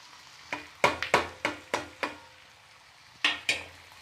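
A spatula scrapes and clanks against a frying pan while capsicum is stirred into chilli potato, about nine sharp strokes in an uneven rhythm, close and clear with a faint sizzle between them.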